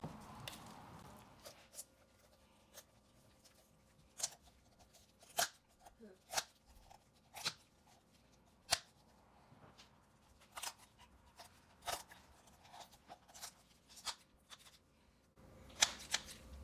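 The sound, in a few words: kitchen shears cutting through a raw chicken to spatchcock it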